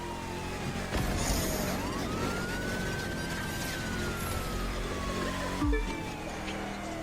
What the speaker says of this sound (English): Sirens turn on.